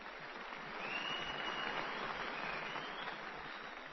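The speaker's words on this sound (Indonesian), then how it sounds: "Tepuk tangan untuk Saudara Kamarudin bin Ahmad" An audience at a Minangkabau gathering claps for a guest from Seremban, Malaysia, a fairly soft, muffled wash of steady applause that swells slightly in the middle.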